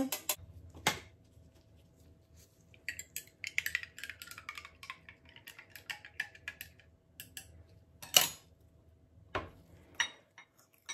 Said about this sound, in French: Je transvase mon beurre, mes cires.